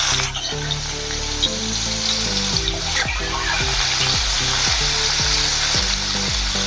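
Finely chopped garlic hits hot oil already holding cumin seeds and sizzles loudly and steadily up close, a bright continuous frying hiss with a faint musical backing underneath and no talking.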